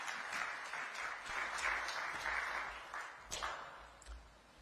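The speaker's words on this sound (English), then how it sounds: "please a round of applause for His Excellency," A crowd applauds President William Ruto at a formal reception of a human rights report, steady dense clapping filling the room for several seconds, with a few louder claps near the end.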